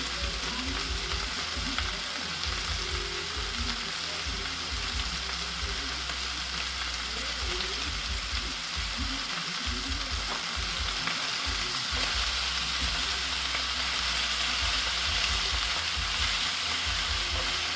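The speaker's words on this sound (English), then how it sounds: "It's not swimming in juices, see, it's just fat in there and sizzling away" Steady, close sizzling of steak frying in a pan on full heat, a continuous crackle with faint low thumps underneath and no voices.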